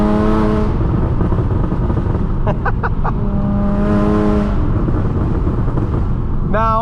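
Valved ARMYTRIX catback exhaust on an Audi B8.5 S revving hard: a loud, continuous engine roar rising and falling through several throttle blips, with a few sharp crackles in the middle and near the end.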